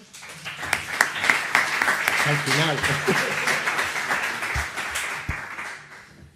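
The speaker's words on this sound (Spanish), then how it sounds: "un aplauso" Audience applause for a speaker at a lecture on science, belief and the origin of the universe, a dense roomful of clapping that swells and holds for several seconds before tapering, with brief talk mixed in.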